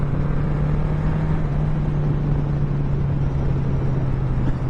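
A 1982 Honda Goldwing 1100 motorcycle runs at full throttle, its engine giving a steady, loud drone with a low hum and wind rush that hold evenly throughout, with no talk.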